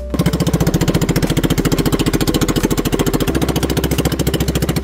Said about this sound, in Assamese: অসমৰ আকাশত উৰিল পাৱাৰ হেং গ্লাইডাৰ।